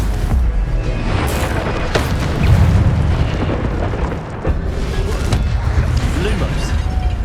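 A Stupefy spell cast in Hogwarts Legacy, rendered as a dense, rumbling magical burst with booming impacts and crackling bursts over a loud, continuous game soundscape, with voices mixed in.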